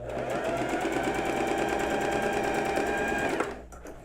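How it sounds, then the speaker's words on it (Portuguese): An overlock sewing machine stitches a blouse seam in one fast, steady mechanical whir with a rapid pulsing beat, loud and close, then stops abruptly near the end. "Na reta no overlock, se você não tiver overlock, pode fazer uma costura no zigue-zague."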